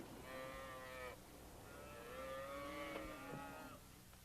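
Cattle on a ranch low loudly in two long, drawn-out moos, one after another, with no voices over them.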